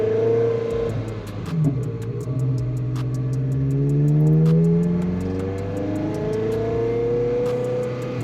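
A Ferrari engine drones at close range, its pitch rising and falling as it revs through the gears, with a steady ticking running throughout.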